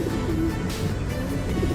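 Black and white homer pigeons coo in a short soft burst close by, a low warbling note rising over a steady background hum.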